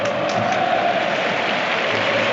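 A distant sellout stadium crowd at the Nou Camp during a Champions League match, Barcelona against Manchester United, chanting olé as a steady, broad roar that carries throughout, with no voice over it.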